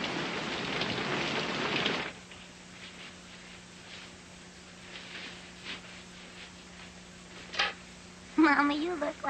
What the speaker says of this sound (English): if it keeps up, I'm gonna drag you all back out in that fine rain with me